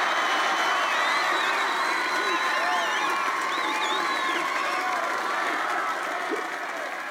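A large crowd cheers, whoops and claps continuously at a 1986 Kerry Gaelic football homecoming celebration for the All-Ireland finalists, a dense steady roar of applause and shouting with scattered high whistles and calls.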